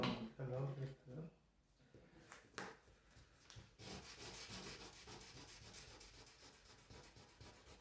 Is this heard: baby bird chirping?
no